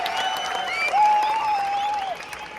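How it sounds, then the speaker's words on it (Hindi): Thin, modest clapping from the audience at a kavi sammelan poetry event, a soft scattered patter with a high sustained whistle-like tone ringing over it before fading out. "आपने इतनी कम तालियां बजाई कि मुझे"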